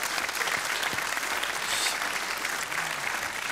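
Studio audience applause during a televised quiz show final, a steady dense wash of clapping that fills the whole moment without talk.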